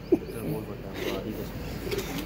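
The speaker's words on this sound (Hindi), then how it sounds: "ये कबूतर है" Soft, low pigeon coos murmur nearby on a plaza rooftop, layered over faint background chatter.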